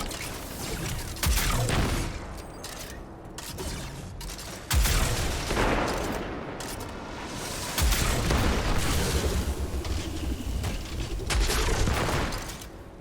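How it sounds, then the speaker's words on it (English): Grenade launcher blasts and rapid gunfire in the video game Destiny 2, fought against grouped enemies on a bridge in a Lost Sector; booming bursts hit near 1.5, 5 and 8 seconds amid continuous loud shooting and mechanical clatter. "I'm going to throw that and then put a grenade launcher shot as well"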